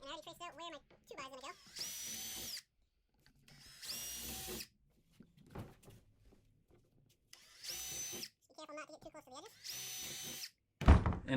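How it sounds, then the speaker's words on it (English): Several bursts of a power drill whirring through wood boards for a jet sled, each lasting a couple of seconds, separated by quiet pauses and brief speech. "So let's drill these holes and go from here."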